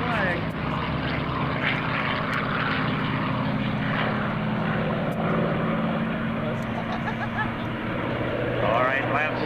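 WWII fighter planes, a Corsair, a North American and a Hawker, racing in an air race demonstration at the Dayton airshow; a loud, steady propeller engine drone under a public-address commentator's voice.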